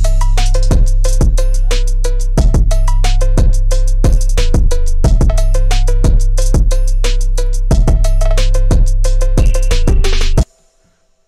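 Phonk Memphis beat produced in Ableton Live, with booming bass, punchy drums and a repeating bright melodic pattern looping loudly for about ten seconds before cutting off abruptly.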